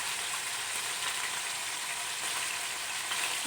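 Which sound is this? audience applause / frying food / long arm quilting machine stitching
frying food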